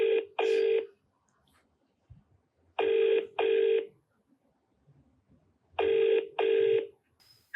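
An outgoing telephone call rings back in three evenly spaced double-ring pairs separated by silence, clear and close, with faint background noise between rings.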